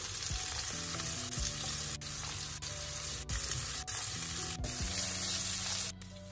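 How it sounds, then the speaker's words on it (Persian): Zucchini sizzles in hot oil left over from meatballs in a pan for a Persian stew, a loud, continuous close frying hiss with occasional stirring clinks and no talking. "حالا گوشت رو ور میدارم و تو همون روغن کدو رو هم سرخ میکنم"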